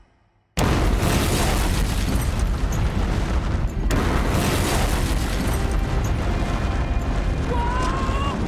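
Cooling towers brought down by demolition charges: a sudden loud blast bursts out of near silence, then a sustained heavy rumble and roar of collapsing structure rolls on for several seconds with crowd noise and voices underneath.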